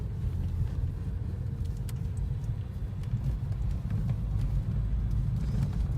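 A 1993 Peugeot 205 drives on just after a gear change, its engine giving a steady close low rumble with faint interior rattles and no talking.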